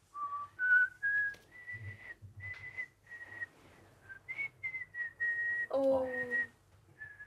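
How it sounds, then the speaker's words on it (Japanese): A person whistles a tune, a string of held and sliding notes with short pauses, close and clear, with a brief spoken exclamation near the start. "あなたのお気に入りの歌を口笛で吹いてください"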